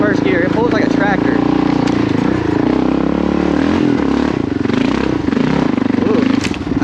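A Kawasaki KLR650 motorcycle pulls hard in first gear on a hill climb, its engine drone loud and close, mixed with rattling and clatter, while a voice talks over it.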